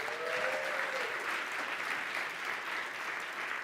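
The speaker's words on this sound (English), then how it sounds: "So round of applause to all of you for showing up." An audience at a programming conference talk on teaching Elm to beginners applauds, a steady, even wash of clapping through the whole short stretch.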